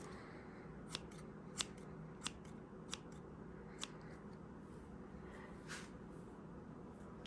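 Scissors trim hair during a haircut, giving sharp, crisp snips close to the ear. Single cuts fall about once a second at first and then space out, over a quiet, steady room background.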